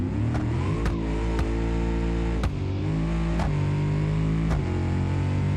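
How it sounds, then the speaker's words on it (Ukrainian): A simulated car engine in the BeamNG Drive video game revs hard and continuously, loud and close, with sharp clicks as it climbs through gears and surges again, no voices. "хоча б в рівні ми можемо насолодитися роботою чудового двигуна."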